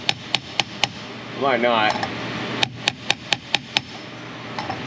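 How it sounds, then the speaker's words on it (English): A small hammer taps an axle shaft into a 2015 Cadillac SRX, sharp metallic strikes in a quick series of four, then a brief spoken remark, then a faster run of six hits, close and clear. "I'm gonna start with a little hammer just to get this thing going."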